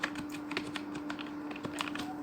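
Quick, uneven keystrokes as CSS code is typed on a computer keyboard, close and clear over a steady low electrical hum.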